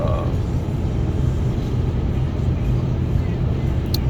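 A Ram 3500 pickup with a 6.7 Cummins diesel cruising on a freeway, heard from inside as a steady low drone of engine and road noise with someone talking over it.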